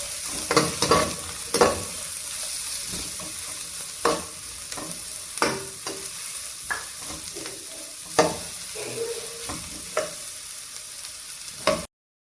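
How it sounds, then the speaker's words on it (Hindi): Onion and bell pepper sizzle steadily in hot oil while a utensil stirs and scrapes the pan in irregular clacks. "प्याज और शिमला मिर्च डाल के इसको सिर्फ 30 से 40 सेकंड के लिए बस हल्का सा सौते करना है"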